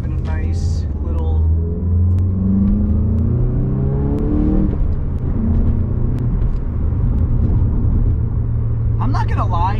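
A stock Volkswagen Mk7 GTI in sport mode with traction control off accelerates hard from the driver's seat, engine pitch climbing through the gears with a steady interior rumble, while a person talks over it.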